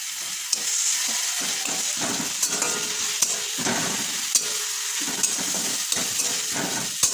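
Garlic and ginger paste frying in a little oil while being stirred, with a loud steady sizzle broken by repeated scraping strokes of the spoon against the pan.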